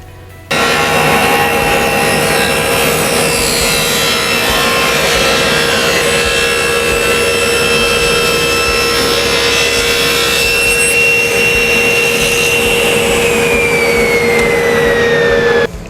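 Table saw fitted with a Super General full-kerf combination blade ripping a wooden board, a loud steady whine and rasp of the cut running nearly continuously for about fifteen seconds, tapering as the cut finishes.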